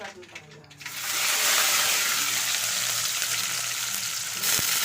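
Mustard seeds, dried red chillies and onions frying in hot oil produce a loud, steady crackling sizzle that swells after a quieter start and carries on close up without pause.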